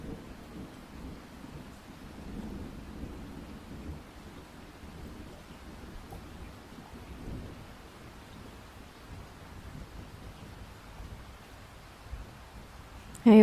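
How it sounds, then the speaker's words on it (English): Steady rain against a cabin window during a storm, a soft continuous hiss with low rumbling thunder beneath it, fairly faint and unbroken, with a brief sharper sound right at the end. "watching the rain slide down the window in glistening trails"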